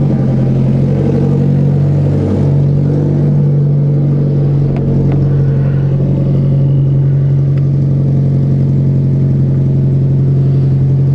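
A Nissan S15 runs inside a garage with a loud, steady engine drone and deep low hum, holding an even idle throughout with a few faint clicks and no talking.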